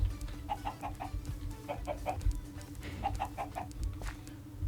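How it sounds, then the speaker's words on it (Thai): Chickens clucking in the video game Minecraft, several short bursts of repeated clucks in quick groups, faint over a low steady hum, with no talking. "ไก่แล้วก็ แพะนะครับผมเนี่ยผมจะเอาลงมา"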